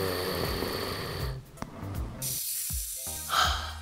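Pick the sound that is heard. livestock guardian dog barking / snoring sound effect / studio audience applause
snoring sound effect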